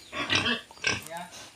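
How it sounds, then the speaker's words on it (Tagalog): Pigs in a pen grunt and snort in short bursts close to the microphone, two quick rough calls followed by softer noises. "Lalaki ng baboy ng Ate Wawi eh."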